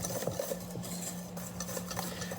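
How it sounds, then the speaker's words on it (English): Flour, cornstarch and cheese whisked together in a bowl for a squash-blossom batter, a quiet, rapid rhythmic scraping and tapping of the whisk, faint and close. "I'm going to give it a good whisk to combine all our dry ingredients"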